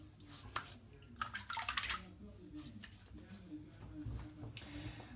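Water is splashed and sprayed across a window face during window cleaning, with several bursts of wetting and trickling water up close, a person talking faintly in the background.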